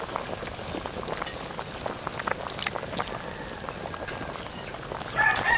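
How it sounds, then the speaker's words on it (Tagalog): Corn boils in a pot of molo bulalo broth, a steady bubbling, rain-like patter that stays even throughout, with a brief louder surge at the end. "Pakuluan pa natin yung mga kagutom para lambutin pa natin yung mais"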